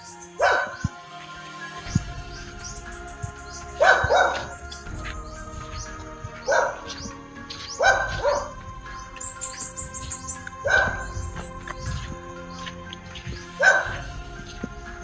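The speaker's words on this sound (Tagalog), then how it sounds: "Ingay ng aso dito." Dogs bark in repeated bursts roughly every three to four seconds along a road at night, fairly close, with faint bird chirps and low background rumble between the barks.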